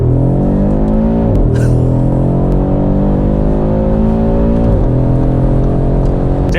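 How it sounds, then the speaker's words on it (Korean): An Audi RS3 five-cylinder engine in RS performance mode pulls hard under acceleration, a loud, continuous rising growl with two gear shifts that briefly drop the pitch before it climbs again, close and alone. "한번 가속해볼까요?"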